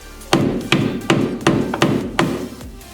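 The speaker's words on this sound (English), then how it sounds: "Now I've got my chisel and a BFH." A heavy hammer strikes a chisel to free a ball joint on a Chevy S10 pickup, six sharp metallic blows at a steady rhythm about every 0.4 seconds, close and loud with ringing decay, no voices.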